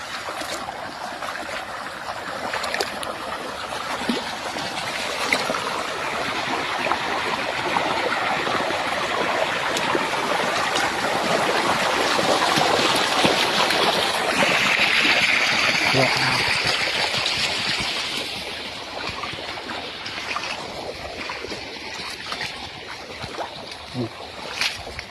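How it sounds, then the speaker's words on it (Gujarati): Irrigation water flows into a castor field in Aravalli, Gujarat, a loud continuous rushing that eases off near the end. A voice talks over it. "જો મિત્રો અહીંયાથી પાણી આવે છે।"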